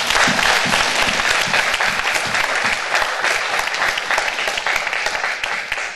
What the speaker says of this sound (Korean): 하나님께 영광의 박수 주세요